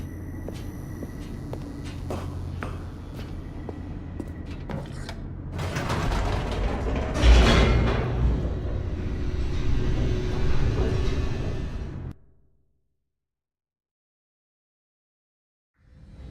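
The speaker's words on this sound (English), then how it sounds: "The elevator raced downward, plummeting towards an unknown fate." Elevator descending in The Stanley Parable: a steady mechanical rumble with creaking and grinding that swells louder midway, then cuts off abruptly into silence.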